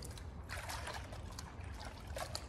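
Soapy water poured from a bucket over an engine block outdoors, a quiet continuous trickling splash with scattered small drips and spatters.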